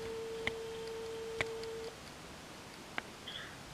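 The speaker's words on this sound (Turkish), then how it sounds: "Şimdi geri arıyorum." A phone ringback tone plays while a call is being returned: a long flat tone followed by sparse ticking clicks over a faint, steady hiss, no voices.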